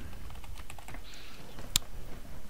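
Fingers tap out a username and password on a computer keyboard in a steady, close run of light keystroke clicks, with one sharper key strike near the end and no voices.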